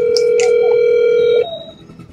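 A telephone call rings out unanswered as a steady electronic ringback tone, loud and close for about a second and a half, then cuts off into faint background noise.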